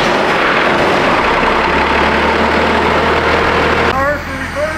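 An old truck engine runs with a loud, steady low rumble close by, its tone shifting near the end as it settles into an idle.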